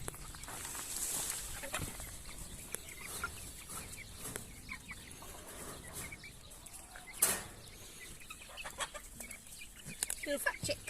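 Adult chickens and young chicks on a spring homestead cluck and peep in scattered bursts around feeding time, fairly faint and irregular, with a sharper squawk partway through and soft background rustling.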